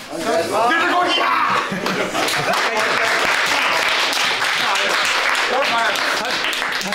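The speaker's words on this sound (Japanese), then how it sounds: "達人のリアクションは拍手だよ。" A studio audience applauds continuously at a martial arts masters tournament match, with laughter and chatter running over the dense clapping throughout.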